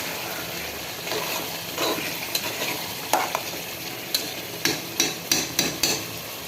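Curry being sautéed and stirred in a pan, a low sizzle under repeated sharp scraping and clanking of a spatula against metal, the strokes growing more frequent toward the end.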